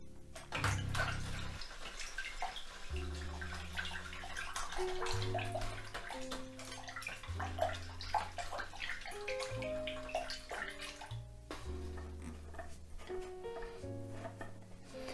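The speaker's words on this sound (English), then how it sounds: "I'm just going to give my brush a really good rinse off" A paintbrush is rinsed in a pot of water between acrylic paint strokes, making soft, continuous sloshing and swishing at low volume under background music.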